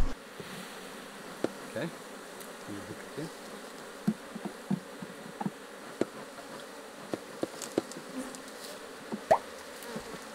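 Honey bees hum in a low, steady buzz from an opened hive, close and continuous, with scattered light clicks and knocks from handling frames and a single short spoken word.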